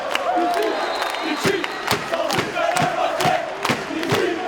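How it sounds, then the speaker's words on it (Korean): A crowd at a women's volleyball match cheers and chants before play begins, with rhythmic loud claps or drum beats repeating roughly every half second over a sustained roar. Close and energetic. "경기 직전 관중들의 열기는 높아지고 연경을 응원하는 팬들도 늘어나기 시작한다"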